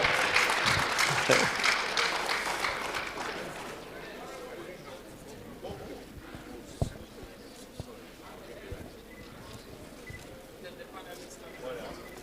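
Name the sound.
audience applause at award ceremony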